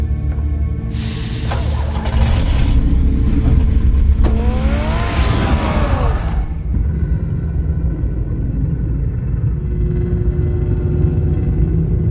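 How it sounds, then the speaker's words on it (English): Car engine in the video game Batman: The Telltale Series, a loud rumbling drone with revving and whooshing bursts in the first half, then settling into a lower steady rumble. "Get the car ready, Alfred."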